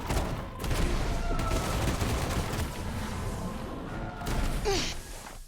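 Scatter shot magic attack in Forspoken, a run of rapid crackling blasts and whooshes in quick bursts, loud and close, with a sharper flurry near the end.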